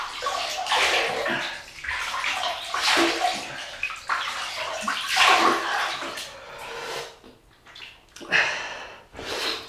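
Water splashes and runs in irregular bursts as a face is wetted for a shave, close and fairly loud with soft breaths between handfuls.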